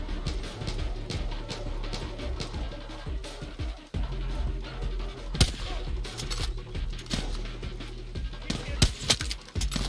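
Gunfire in the video game Far Cry 6 sounds as scattered sharp shots and bursts over a busy background of in-game ambience and voices, some louder cracks near the end.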